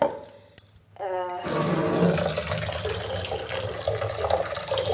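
After a few faint bumps, a steady rush of water starts pouring into a container for mixing rose fertilizer, continuing loudly until the end.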